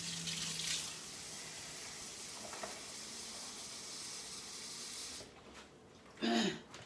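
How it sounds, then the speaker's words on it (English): Warm tap water running from a kitchen sink faucet, a steady hiss of flowing water throughout that cuts off near the end, followed by a brief splash or clatter. "take some warm tap water from your sink"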